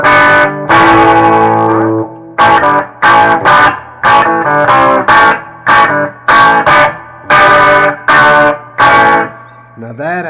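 Distorted electric guitar chugs through a riff in loud, choppy bursts separated by short gaps, with a sustained ringing note at the start and end and a touch of echo.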